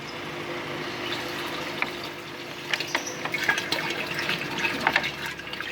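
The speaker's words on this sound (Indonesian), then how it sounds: "Cukup kita tuang ke dalam air ini." Fermentation mixture poured into water in a drum prepared for raising fish makes a continuous close splashing and trickling, with brief louder gurgles and splashes toward the end.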